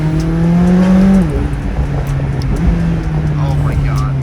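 A rented supercar drives hard through corners in Los Angeles, its loud, close engine holding a strong steady drone that drops in pitch partway through, with faint tire and road noise beneath.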